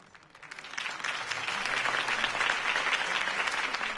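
Crowd applause erupts after Harvey Dent's campaign speech in the Batman Telltale video game, rising quickly from quiet into sustained, dense clapping that stays loud to the end.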